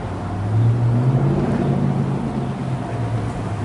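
Speedboat engines rumble low and steady across a river at East Palatka, Florida, with a wind-like wash over the motor noise.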